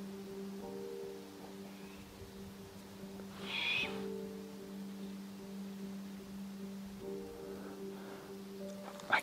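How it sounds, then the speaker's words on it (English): Great horned owl fledgling gives a short harsh screech midway, faint and distant over steady outdoor background hum, with a fainter call later. "It's a great horned owl"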